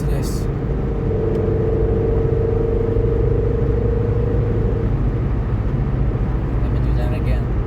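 A Ford Focus engine pulls steadily under acceleration, a constant close rumble with a held tone through most of the stretch before it eases, and no voices over it.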